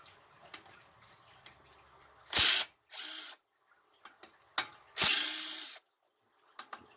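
A 1/2 inch ratchet wrench loosens the cylinder head bolts on a 19 hp opposed twin engine during a teardown, making short bursts of rapid clicking with quieter clanks and taps in between.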